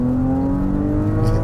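Porsche Cayenne Coupe with its 2.9-liter engine pulling under acceleration, a steady close engine drone with rising harmonic tones and no voices over it.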